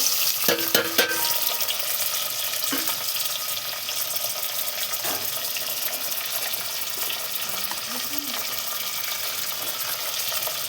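Chopped tomatoes frying in a pan with onions, a steady close hiss and sizzle running throughout with occasional stirring clinks and no talking.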